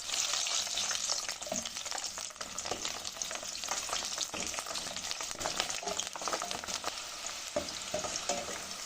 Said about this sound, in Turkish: Şimdi sivri biberlerimi atıyorum.